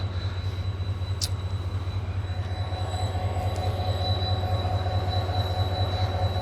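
A train departs near Lahore with a steady low rumble of wheels on rail and a faint high squeal, continuous and moderately close throughout.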